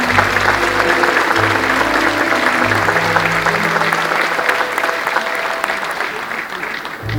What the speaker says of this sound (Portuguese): Palmas aos poveiros.